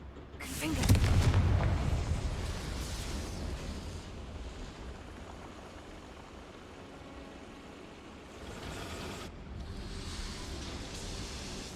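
A Confringo fire-blast spell explodes in the video game Hogwarts Legacy with a loud booming burst and a long rumbling decay, followed later by a second, lighter blast.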